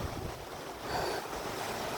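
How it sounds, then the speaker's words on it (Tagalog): Outdoor water rushing along a shallow river, a continuous broadband wash mixed with wind buffeting the microphone, fairly quiet and steady with no talking. "Yan ang ilog."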